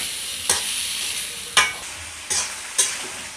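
Mixed vegetables stir-fried in a pan, a faint background sizzle with three or four distinct spatula scrapes spaced about a second apart, nearby and without speech.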